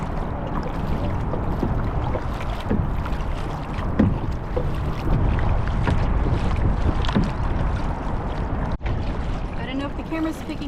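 Steady broadband wind gusting over open water on a kayak trip through Mercer Slough, loud and continuous across the whole stretch, with faint paddle and water sounds underneath and no talking.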